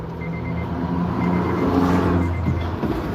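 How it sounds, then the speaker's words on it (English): Repeated electronic beeping pulses in a short regular pattern, moderately loud, over a low vehicle-like rumble indoors or nearby. "you hear that incessant beeping that's happening right now"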